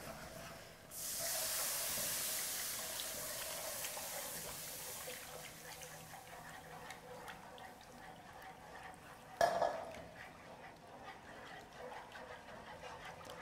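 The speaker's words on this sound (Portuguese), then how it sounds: "eu vou adicionar o leite integral." Whole milk poured into a pan of roux while it is stirred, a steady pouring hiss for several seconds that fades into quieter stirring, with a brief clatter near the end; no talking.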